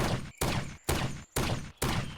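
Four loud gunshots in a hunting video game, in quick, even succession, each blast sharp and ringing with a short tail before the next.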